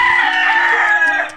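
A single loud, close chicken call, a drawn-out squawking cluck with a strained, tonal quality, heard alone.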